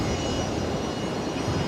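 A Challenger business jet taxiing at Brisbane Airport: a steady, broad jet-engine roar at moderate distance, even and unbroken for the whole stretch without talk.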